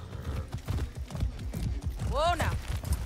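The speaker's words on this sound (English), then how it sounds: "I want to take a horse there." Horse hooves clip-clop in a steady, close, rhythmic gait in the video game Far Cry 6, and a horse whinnies partway through.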